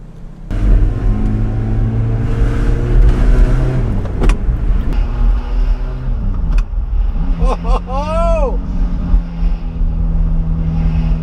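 A manual gated Ferrari F430 pulls away, its engine rising through revs, dropping at a gear change and rising again, with a sharp mechanical click and a brief whistling chirp later on.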